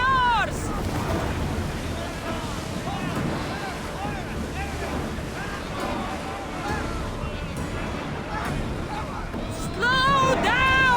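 An ancient Greek ship crosses the open sea in Assassin's Creed Odyssey with steady wave wash and wind roar, a continuous close rushing of water, while voices call out over it.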